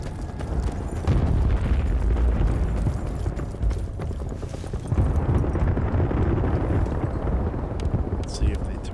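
Launcher explosions in Battlefield 1943 on Xbox Series X thud out as low, heavy booms in two broad bursts amid continuous battlefield rumble, with someone talking throughout.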